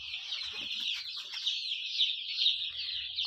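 A flock of free-range native Bangladeshi chickens clucks and chirps continuously at close range, a busy, overlapping chatter with no talking.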